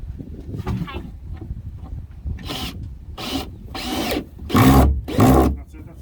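A power drill drives screws into the wood of a homemade chicken coop, giving several short whirring bursts that grow louder and longer toward the end, with people talking nearby between them.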